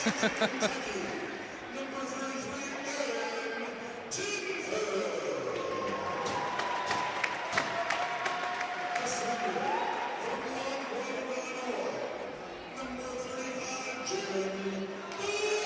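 A big crowd cheers and roars at a Kentucky versus Eastern Kentucky basketball game, swelling in loud waves across the arena with bursts of clapping and a public-address voice talking over it.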